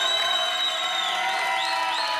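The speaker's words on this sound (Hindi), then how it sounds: "इनके लिए जोरदार तालियां" A studio audience on the Zee TV reality show Shabaash India breaks into loud cheering, applause and high whoops. The sound is continuous and close, with no talk over it.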